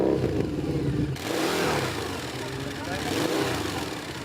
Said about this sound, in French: Certaines motos dépassent largement les limites.